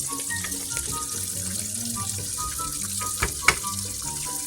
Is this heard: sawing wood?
no